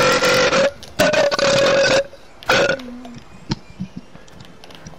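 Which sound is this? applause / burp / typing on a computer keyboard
burp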